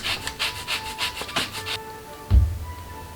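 An orange is zested for Florentine cookies, with a series of quick, rhythmic rasping strokes close by, followed by a brief soft knock and quiet.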